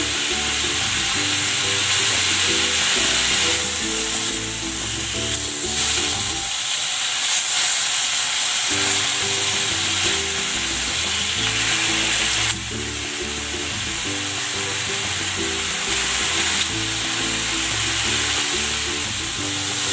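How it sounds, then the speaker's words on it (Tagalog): Garlic sizzles in a hot pan, a loud, steady hiss of frying that runs throughout, close by, under a patterned background of music. "Maglalagay ako dito ng bawang."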